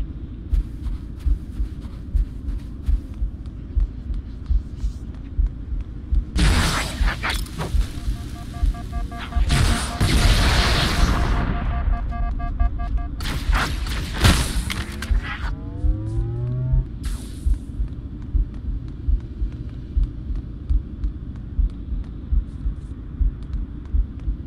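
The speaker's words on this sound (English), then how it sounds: "Grenades." Grenade explosions in Halo: Combat Evolved Anniversary burst in a loud cluster around the middle, with booming blasts and crackling debris over steady game ambience and music, followed by fainter rumbles.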